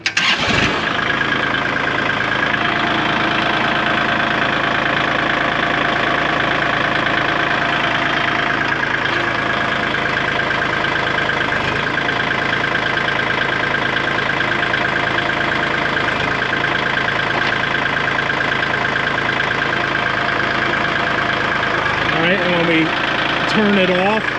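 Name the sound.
Kubota L2502 tractor engine idling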